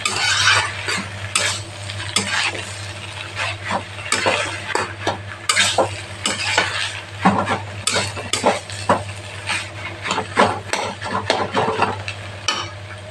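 A spoon scrapes and clatters repeatedly against a pan while bharali fish ghonto curry sizzles, close and loud, in irregular bursts over a low steady hum, with no talking.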